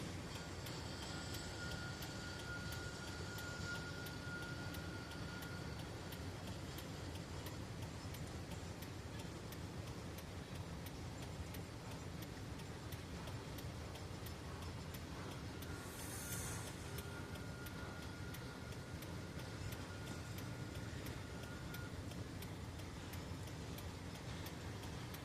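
A Southern freight train of flat cars or gondolas rolls past at night below a bridge, a steady broadband rumble and rail noise that continues throughout, with a brief higher squeal partway through.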